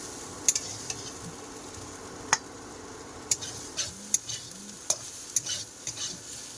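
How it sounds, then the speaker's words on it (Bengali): Fried potatoes are stirred and scooped out of a sizzling pan, sharp utensil clicks and scrapes against the metal punctuating a soft, steady frying hiss close by. "যে আলু ভাজা হয়েছে এগুলো কিছুটা তুলে নিচ্ছি পাস্তার জন্য।"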